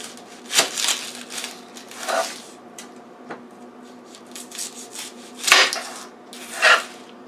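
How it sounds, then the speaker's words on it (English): A knife cuts an onion on a cutting board, giving a few separate slicing and scraping strokes with brief crisp bursts spaced irregularly over several seconds, close and quiet between cuts. "Cut through so that you can take the outer portion of the onion off."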